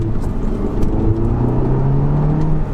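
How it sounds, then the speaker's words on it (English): Audi TT engine pulling steadily while driving, a smooth continuous whirring drone with a rising tone that hints at turbo spool, close and fairly loud throughout with no talking. "it's got like a nice sort of turbo blowing sound"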